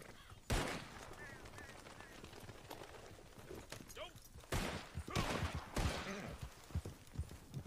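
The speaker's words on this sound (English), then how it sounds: "Okay, well I'm gonna shoot this guy." Several sharp gunshots ring out in a wild west video game, spaced irregularly and fairly faint, mixed with horse hoof clip-clops. A player talks between the shots.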